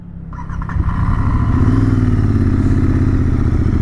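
A motorcycle rides a mountain road toward Patnitop in Jammu and Kashmir, its engine note building from a low start into a steady, loud drone with wind rush, heard alone and close throughout.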